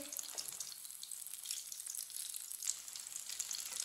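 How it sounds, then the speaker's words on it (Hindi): Pakoras frying in hot oil until browned on both sides, giving a steady, soft sizzle with small crackles that runs without a break and without any voices. "पकोड़ों को दोनों साइडों से ब्राउन कर लेना है"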